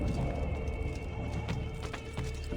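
Horse hooves clip-clopping with a brief whinny from a horse in the Renaissance-era city of the Assassin's Creed 2 video game, steady and moderately loud over a busy game background, with no talk.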